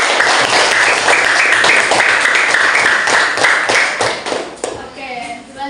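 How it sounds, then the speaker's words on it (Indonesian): Classmates in an elementary school lesson clap for a group of students, quick close applause with distinct individual claps that tapers off as a voice starts talking. "beri tepuk tangan untuk kelompok"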